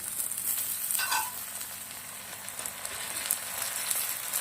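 Quiet, steady sizzle of tomato frying in a pan over low heat, with a faint stir partway through and no talking.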